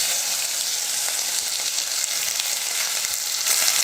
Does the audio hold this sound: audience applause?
no